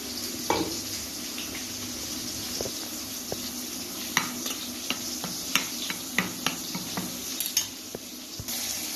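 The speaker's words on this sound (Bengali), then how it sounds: "নুন মশলাগুলোকে মিক্স করে নিচ্ছি জল দিয়ে মিক্স করে নিচ্ছি" Salt and spices stirred together with water for a thin Bengali rohu fish curry, with soft continuous stirring, light sizzle underneath and a few sharp clinks of a spoon against the pot.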